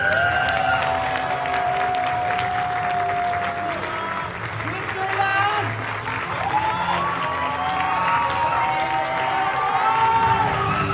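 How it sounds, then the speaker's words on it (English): An audience at the Mister International 2023 preliminary swimsuit competition applauds steadily and warmly. A voice talks over the clapping throughout. "a big round of applause to the swimsuit competition."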